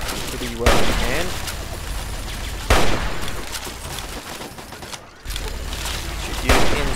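Repeated blasts of gunfire from the video game Fallout 3 hit in several loud bursts over a dense, continuous battle din, with a person talking over the shooting.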